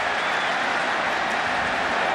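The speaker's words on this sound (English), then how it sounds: "So now the crowd's happy." A Penn State stadium crowd roars and cheers during the 2005 night whiteout game against Ohio State, a loud, unbroken wall of massed voices and clapping that holds steady throughout.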